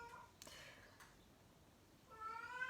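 A domestic cat gives a quiet, drawn-out meow near the end, after a few faint soft sounds in an otherwise still room.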